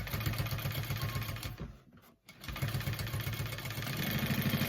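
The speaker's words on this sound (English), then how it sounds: "I'm gonna give it another stitch just to the right of the stitch line that I just did" A sewing machine stitches a teddy backpack strap with a fast, steady mechanical whir, pausing briefly midway before resuming at the same even rhythm, close and loud with no talking.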